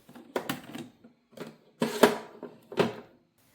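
A printer feeds and prints Avery label sheets, giving a few bursts of mechanical rattling and whirring separated by short pauses, heard close up with no talking.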